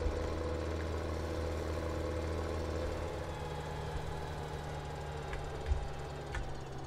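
A tractor engine in the video game Farming Simulator 17 drones steadily as it prepares for mowing, a low, even hum with faint mechanical rattles and no voices.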